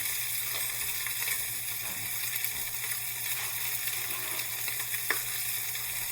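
Pork shank browning in a hot pan for osso buco, an even, continuous sizzle with scattered pops and spits, close and steady with no talking.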